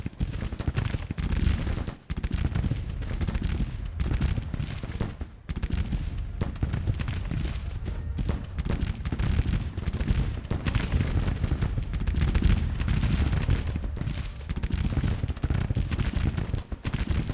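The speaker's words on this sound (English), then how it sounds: "This is just a point-blank shootout." Gunfire from a Civil War video game shootout at point-blank range rolls on continuously, dense overlapping musket cracks and booms forming a loud, unbroken battle roar.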